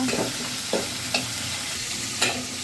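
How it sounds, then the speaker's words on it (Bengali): Onion paste sizzles in a hot pan while being stirred, with a steady frying hiss broken by several sharp scraping strokes of a spoon, close and without speech. "এই যে পেঁয়াজটা দিয়ে দিলাম, পেঁয়াজ বাটা দিলাম, আমি এই যে কষাই নেব।"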